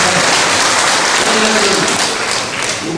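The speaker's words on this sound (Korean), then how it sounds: "특별히 박수를 보내드릴 이유가 있습니다." Dense, steady applause from a lecture audience, a continuous wash of many hands clapping at the same level throughout.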